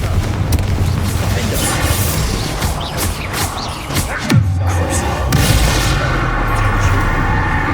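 The Bombarda blasting spell in Hogwarts Legacy erupts inside a tomb as a loud, rolling explosion with crackling debris. A deep thud lands midway, then the rumble continues at full strength.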